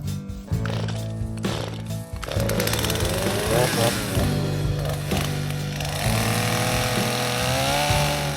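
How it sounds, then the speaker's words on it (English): A Stihl MS 250 chainsaw runs steadily and loud throughout while trail clearing in boreal forest, its engine pitch wavering as it revs and bogs under load, with brief sputters near the start. "I've owned this still MS 250 for about 15 years and I haven't had any problems at all with it."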